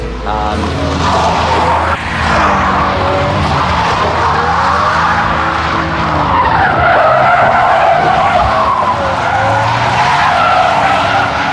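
A race car driven hard around a track, tires skidding and squealing continuously over a loud, steady engine roar that rises and falls through turns, close and sustained throughout.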